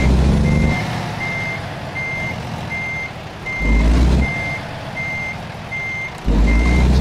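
Truck reversing alarm in American Truck Simulator: a steady run of about nine evenly spaced electronic beeps over a continuous low engine rumble, with two brief louder engine surges partway through.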